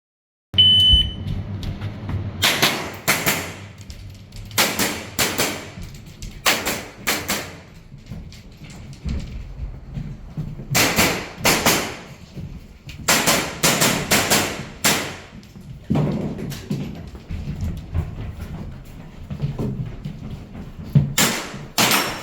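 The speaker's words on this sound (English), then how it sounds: "we've just got to shoot the 3 steels on the right, left, and 3 steels on the right at about 25 meters" Pistol shots ring out on steel targets at about 25 meters during a practical shooting championship stage at Silverstone Shooting Centre, loud sharp cracks that come in quick clusters separated by short pauses.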